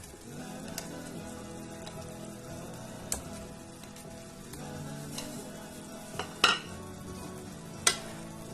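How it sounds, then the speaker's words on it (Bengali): Fried paneer cubes being stirred into palak gravy in a pan, a soft continuous sizzle with scattered scraping clicks and a couple of sharper spoon knocks near the end. "পনিরটাকে গ্রেভির সাথে ভালো করে মিক্স করে দেব।"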